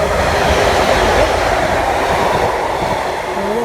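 A Pacer diesel train passing a station at Moses Gate or Farnworth, a loud, steady roar of engine and rolling wheels close by with a faint squeal near the end and no speech.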